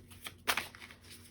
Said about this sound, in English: make sure to really shuffle these good